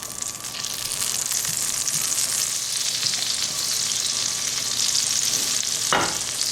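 Worcestershire sauce hitting a hot pan with beef drippings and lemon juice for steak au poivre, a loud, steady close sizzle and crackle throughout, with a brief stirring scrape near the end.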